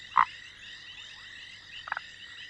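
Male foam nest frogs croak from a crowded huddle, two short, clear calls, one near the start and another about two seconds later, over a steady background hum of insects or frogs.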